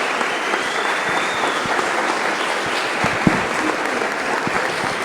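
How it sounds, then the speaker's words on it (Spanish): Sustained applause from a panel audience, a steady dense clapping wash filling the whole stretch with no pauses, fairly loud and close, with a louder clap or two standing out partway through. "brindémosle un fuerte aplauso"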